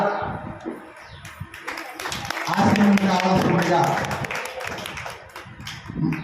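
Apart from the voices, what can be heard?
audience clapping to welcome the speaker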